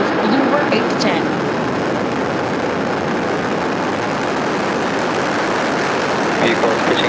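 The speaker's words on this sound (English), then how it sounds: "Ignition. And liftoff." Falcon 9 rocket engines roar at liftoff from Florida, a dense, steady, loud broadband rumble that holds at full strength throughout, heard from a distance with faint commentary voices underneath.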